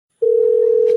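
A telephone line tone starts abruptly after a moment of silence and holds as one loud, steady, unbroken pitch.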